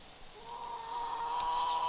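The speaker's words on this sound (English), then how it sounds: "Underneath this little shelter here are the chickens who we're trying to hang out with." Chickens at an animal sanctuary, resting in the shade under a small shelter, giving a brief soft clucking call that rises slightly, close and alone against faint outdoor background.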